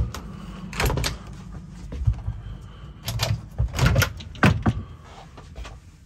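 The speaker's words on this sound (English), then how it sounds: "These portions of the doors do flip out to be able to provide privacy" Privacy door panels flipping out inside a 2005 Roadtrek 210 Class B camper van, several close hollow clunks and soft knocks at irregular intervals, a brief creak among them, with no talking.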